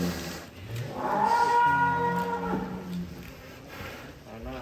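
A giant cow on a farm gives a long, drawn-out moo, rising and then tapering over a couple of seconds, fairly close, followed by a quieter low call.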